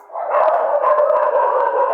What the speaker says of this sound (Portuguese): Eu repreendo no nome de Jesus todos os barulhos desses cachorros aqui, gente, que eu não estou aguentando